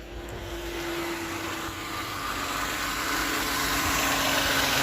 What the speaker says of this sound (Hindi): तो इंशाल्लाह मैं गाड़ी करता हूँ स्टार्ट, आप लोगों को दिखाता हूँ।